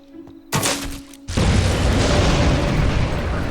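Gunshots in the video game Fable 2 on Xbox Series X: a sudden loud boom with a short crackling tail, then a second blast that opens into a long roaring rumble, no talk.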